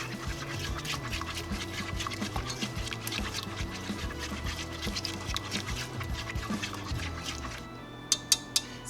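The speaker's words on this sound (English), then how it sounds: "And then we're gonna whisk that in." Pecan pie cheesecake batter being whisked in a bowl, a steady wet rhythmic churning with a few sharp taps near the end.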